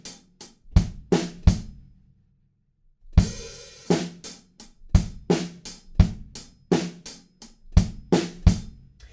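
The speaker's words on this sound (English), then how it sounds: "There's one extra 8th note on the kick drum every now and again in the choruses, sounds like this." Pop drum kit groove, punchy kick and snare hits in a steady pattern with an occasional extra eighth-note kick, a brief gap, then a crash and the beat resuming, played alone without talk.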